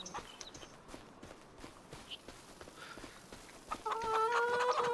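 Chickens clucking in a farming video game, a steady run of short clucks over a low farm ambience with soft footstep-like taps, then a louder, sustained in-game tone toward the end.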